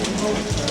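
Steady rain falls on a garden, a dense, even hiss of drops on leaves and surfaces, close and continuous for under a second.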